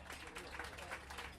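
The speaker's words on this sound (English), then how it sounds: "Let's give him a round of applause." Applause for Council Member Tommy Wells at an Anacostia Coordinating Council program aboard a boat ride, a faint, dense patter of many hands clapping at a distance, steady throughout its short length.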